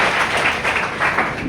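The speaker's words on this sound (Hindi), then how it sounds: "एक बार जोरदार तालियों में चाहिए सभी साथियों के लिए" An audience at a training session claps in a dense, continuous round of applause, close and loud throughout.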